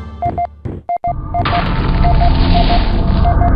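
An enemy vehicle explodes in the MechCommander game: a few short electronic beeps and clicks, then a loud, deep boom that swells into a sustained rumbling roar with a repeating tone running through it.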